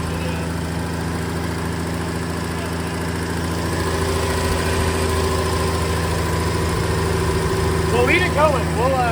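An old Ford F-100 truck idles fast and steadily nearby, a constant humming engine drone that swells slightly near the end, with a voice speaking over it.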